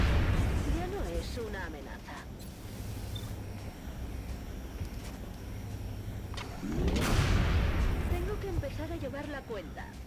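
Gunshots from soldiers in the XCOM Enemy Within video game, a couple of sharp blasts standing out among game sound effects, with a voice talking over parts of it.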